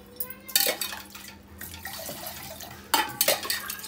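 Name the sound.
sugar water being poured and mixed in a pot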